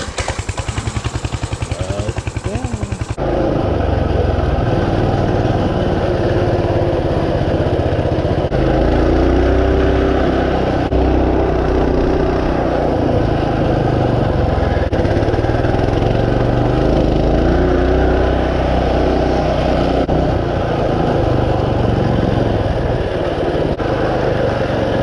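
A mini bike engine running steadily while being ridden, a loud continuous buzzing drone with slight shifts in pitch throughout, recorded up close, with no talking.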